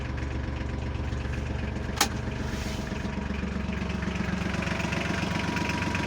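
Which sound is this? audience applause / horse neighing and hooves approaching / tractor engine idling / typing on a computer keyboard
tractor engine idling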